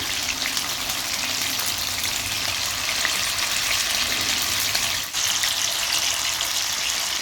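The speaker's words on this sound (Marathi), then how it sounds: "चांगले फ्राय करून झाले की पलटून घेऊया।" Steady, loud sizzle of chicken frying on a hot griddle, an unbroken crackling hiss with no one talking.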